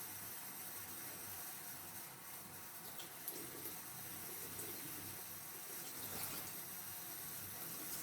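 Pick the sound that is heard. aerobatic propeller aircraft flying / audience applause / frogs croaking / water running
water running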